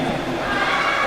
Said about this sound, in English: But the crowd's getting riled up.